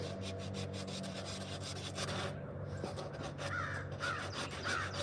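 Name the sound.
crows cawing outdoors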